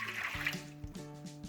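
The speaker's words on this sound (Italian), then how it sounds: "Per iniziare mettiamo in un contenitore l'acqua tiepida." Lukewarm water is poured into a container for bread dough, a soft, quiet splashing and trickling that shifts in pitch as the vessel fills.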